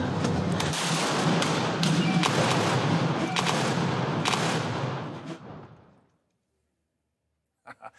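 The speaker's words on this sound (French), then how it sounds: "Dans la bravade, il y a aussi beaucoup de coups de fusil qui expriment la joie, la gratitude et l'allégresse." A dense volley of celebratory gunshots at the Saint-Tropez bravade festival, many loud overlapping bangs and thuds filling the air for about six seconds before fading to silence, followed by a couple of faint later reports.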